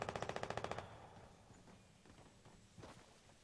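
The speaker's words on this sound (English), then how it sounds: "I hear a lot of shooting." A fast, even burst of about a dozen automatic gunshots from a PS4 shooter video game opens the moment. It gives way to faint, scattered pops and thuds further off.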